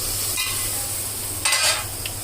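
Ragi flour flatbread spread with cumin-garlic paste sizzles steadily in a hot pan, a soft continuous frying hiss with a brief louder burst of crackle midway, close and alone without talk.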